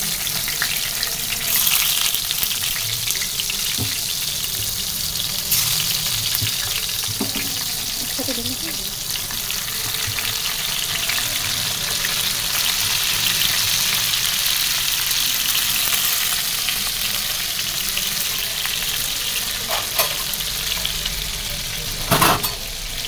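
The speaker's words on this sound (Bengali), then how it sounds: "আগে বেগুনের চাকটা ভাজি করি" Eggplant slices fry in a home pan, a steady broadband sizzle running the whole time with a few faint clinks and a brief louder scrape near the end.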